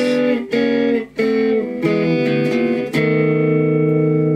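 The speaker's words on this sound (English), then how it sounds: "So that's a really easy, famous blues turnaround." An electric guitar with effects plays a short blues turnaround lick of bending notes, then settles on a sustained ringing chord.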